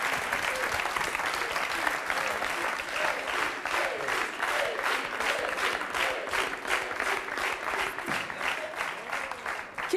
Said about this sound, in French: On peut applaudir Kevin.